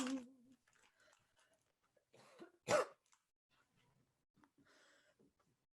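A person coughs a few times in a quiet room: a short cough at the start, a rougher throat-clearing burst, then one sharp loud cough, with soft breathy sounds between.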